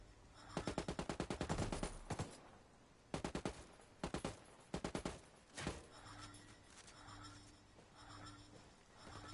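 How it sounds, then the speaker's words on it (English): Heavy automatic gunfire in Ghost Recon Wildlands: several rapid bursts of shots fired in quick clusters, loud and close, followed by quieter scattered shooting and background noise. "Under heavy fire."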